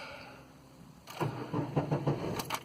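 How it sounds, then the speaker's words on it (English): A Chevrolet Cavalier engine with about 130,000 miles cranks and catches at about one second, then runs with uneven revving pulses, close and fairly loud. "So start her up."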